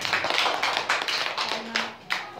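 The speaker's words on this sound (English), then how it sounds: "Clap on him." Children clap together in a classroom, a close run of uneven, crisp hand claps in bursts.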